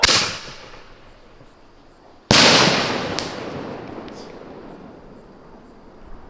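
A Masters firework shell with sky blue, cherry and red pearl stars and gold glitter bursts at an outdoor Fourth of July show: one sharp, loud crack, then a long crackling, hissing fade with a smaller pop near the end.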